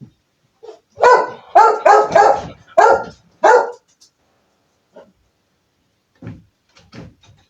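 Dogs indoors bark in a quick burst of five loud, close barks, then after a pause give a few softer, scattered yips and whines.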